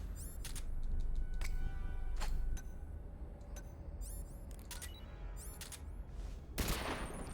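Gunfire from the video game Metal Gear Solid: Portable Ops comes as a string of sharp, loud cracks in irregular bursts. Metallic clinks sit between the shots, and one heavy blast lands near the end, with no talking.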